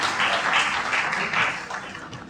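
Audience applause welcomes Rauf Chandio, chairman, onto the stage at an awards ceremony in a hotel in Hyderabad, Sindh; a steady, moderately loud clapping that runs through the whole moment without pause.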